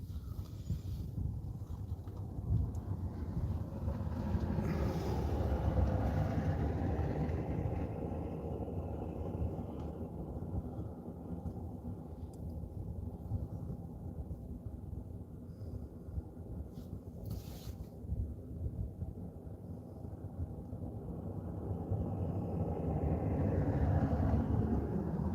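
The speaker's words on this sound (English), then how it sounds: "You'll see it's quite a busy road." Steady traffic on a busy road, a continuous low rumble of passing vehicles that swells and fades slightly, heard from a distance in cold outdoor air.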